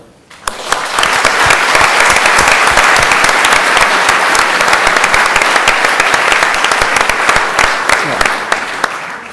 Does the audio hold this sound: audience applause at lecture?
yes